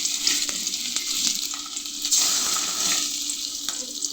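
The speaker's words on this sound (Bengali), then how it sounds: "এই যে এখন ভাজছি ইলিশ মাছ।" Hilsa fish frying in a pan gives a continuous hissing sizzle with faint crackles and occasional utensil taps, steady and close, with no voices.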